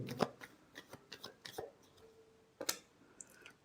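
Tarot cards shuffled for an Aquarius love reading give a quiet, close series of soft riffling bursts and light clicks that come in irregular clusters, with a sharper flurry near the end.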